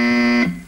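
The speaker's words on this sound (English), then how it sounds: "And that buzzer takes us, please, to Kitty." A game show buzzer blares one loud, steady electronic tone for under half a second, then cuts off into a brief fading tail.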